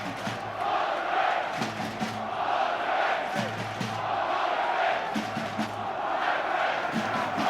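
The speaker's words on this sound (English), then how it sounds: "And the crowd playing a full part, both sides being wonderfully supported here" A big rugby crowd at a Harlequins versus Munster match roars and chants steadily, a rhythmic sung chant rising and falling in repeated phrases above the broad stadium noise, loud and continuous.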